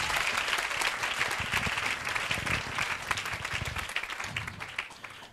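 A congregation at an evangelical church service applauds and cheers continuously, a dense, loud wash of clapping that holds steady throughout and fades slightly at the end.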